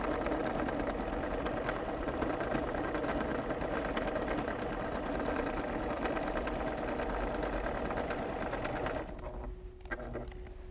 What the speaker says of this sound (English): I'm going to sew another wavy line.